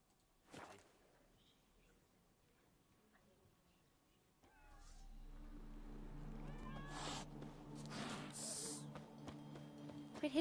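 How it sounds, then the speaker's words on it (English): Cats hiss and yowl near the 7 Cats Inn in The Witcher 3, a sharp burst early on, then louder rising cries and hisses over game ambience and footsteps after a quiet stretch. "Quit hissing at me, kitties."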